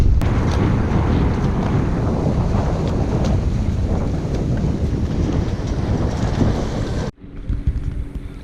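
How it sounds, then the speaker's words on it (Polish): Strong wind buffets the microphone in loud, continuous roaring gusts on a Baltic beach during a bike ride, cutting off abruptly near the end into a quieter, calmer background. "Wieje, mój rower szaleje."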